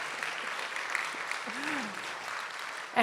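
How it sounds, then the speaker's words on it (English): An audience at a gala applauds in a steady, even wash of clapping, with a brief faint vocal sound partway through and a sharp knock near the end. "as long as you're applauding"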